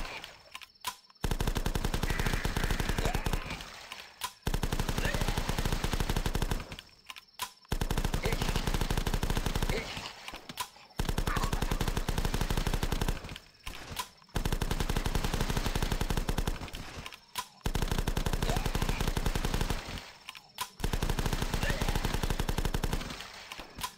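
Bursts of video game machine gun fire rattle in repeated volleys a few seconds long, separated by short gaps, loud and close.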